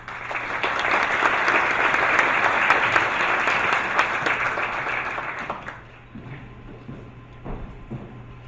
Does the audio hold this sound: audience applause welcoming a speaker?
yes